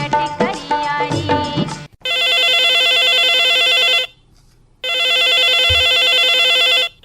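Telephone ringing on a Chhattisgarhi radio phone-in song request show, two long loud electronic ring bursts separated by a short silence, after a brief stretch of music.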